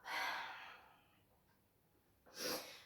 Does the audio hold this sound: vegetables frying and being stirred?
no